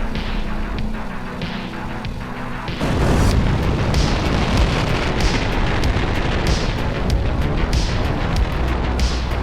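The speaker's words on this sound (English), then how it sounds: "that was a suboptimal place to have a nuclear bomb go off" A nuclear missile detonates in Kerbal Space Program: a low rumble gives way to a sudden heavy boom around three seconds in, followed by a sustained roaring, crackling blast that stays loud to the end.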